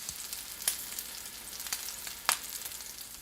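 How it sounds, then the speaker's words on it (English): A ribeye steak sears in a pan on medium-high heat, giving a soft continuous sizzle with a few sharp crackling pops. "And you can hear that you're developing a nice sear."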